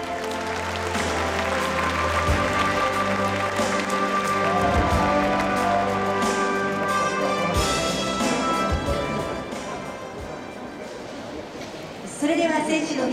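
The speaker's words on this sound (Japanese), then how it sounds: "ファイナリストの皆様に大きな拍手をお送りください。" Sustained applause from an audience for the ten finalists of the Japan Cup flower arranging competition, steady clapping under background music lasting most of the span, with a brief louder burst near the end.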